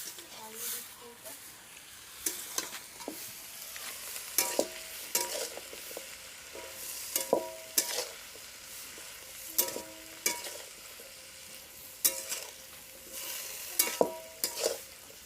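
Potatoes fry in a pan for lauki saag, a low sizzle broken by repeated scraping strokes of a spatula stirring at an irregular rhythm, with a voice talking at times.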